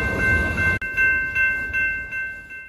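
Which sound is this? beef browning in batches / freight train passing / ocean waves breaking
freight train passing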